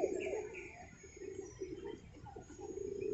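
Pigeons coo softly and repeatedly in an open town square in Tulungagung, a low, throaty burbling that carries on steadily at moderate volume over faint background ambience.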